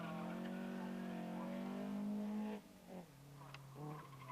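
A Lotus Sunbeam road car racing at Crystal Palace circuit, its engine holding a strong rising note before easing off and changing gear, with a brief tyre squeal, loud and fairly close.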